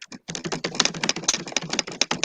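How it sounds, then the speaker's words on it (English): Heavy typing on a loud computer keyboard clatters in rapid, uneven bursts of sharp key clicks, close and prominent after a brief pause at the start, with no talk over it. "Somebody was typing very heavily."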